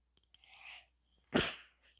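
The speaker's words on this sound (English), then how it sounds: "Sorry, I had to sneeze." A soft breathy inhale followed by one sharp, close sneeze, then quiet; no talking.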